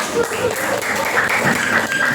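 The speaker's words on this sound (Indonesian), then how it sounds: "Dan tepuk tangan dulu semuanya." Steady applause from a classroom of students fills the clip, a dense wash of clapping at moderate loudness with faint voices mixed in.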